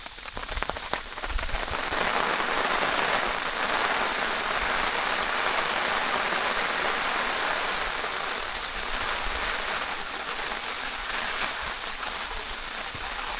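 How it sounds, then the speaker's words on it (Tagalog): Heavy rain falls in a forest campsite and patters densely and steadily on a tarp and the surroundings, loud and close throughout. "At biglang bumuhos ang malakas na ulan."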